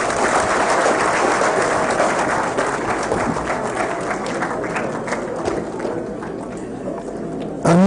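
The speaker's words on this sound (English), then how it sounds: "Another round of applause for the Honorable Minister." A crowd gives loud, sustained applause for the Honorable Minister at a swearing-in ceremony for Federal Capital Territory mandate secretaries. Dense clapping fills the room and slowly thins toward the end before an abrupt cut.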